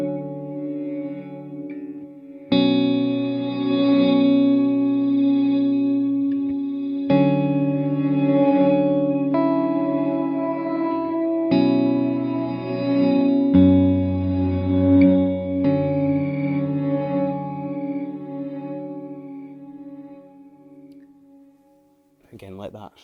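Electric guitar plays through a Strymon BigSky MX reverb pedal on its non-linear setting. Sustained, layered chords swell and bloom into a thick, diffuse wash that trails off slowly at the end, heard alone and up close.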